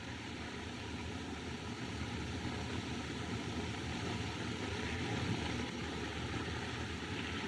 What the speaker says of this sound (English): Plane. Probably making a forced landing.